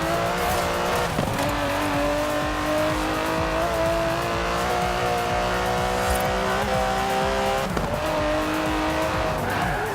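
An Aston Martin DB11 drives in Forza Horizon 4, its engine droning steadily up and down through gear changes, close and continuous, with tires occasionally squealing.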